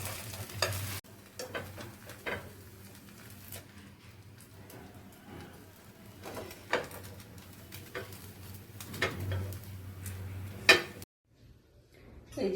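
Patishapta pancakes fry in a pan with soft intermittent sizzling, punctuated by sharp utensil scrapes and taps at irregular intervals before the sound cuts off near the end.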